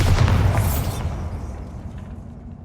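A Bombarda spell blast goes off in Hogwarts Legacy, a loud booming burst at the start that rumbles and decays over a couple of seconds, with no talking.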